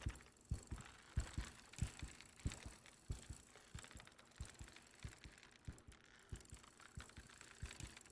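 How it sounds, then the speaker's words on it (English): A rare, powerful fish straining on the hook in a fishing video game gives off a steady low heartbeat throb, repeating about once every half second, fairly faint and alone. "Hear the heartbeat?"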